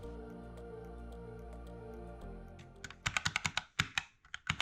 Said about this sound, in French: Les touches font beaucoup de bruit et les cliquetis du joystick sont également assez sonores